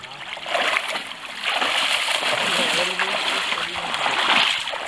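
Boots wade through deeper water in the Sitka creek, churning up continuous broadband splashing and sloshing close by, with a voice faintly present.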